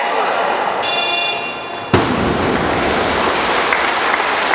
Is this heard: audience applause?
yes